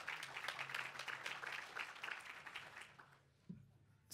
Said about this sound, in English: So round of applause for our panelists,